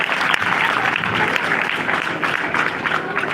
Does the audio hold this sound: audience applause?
yes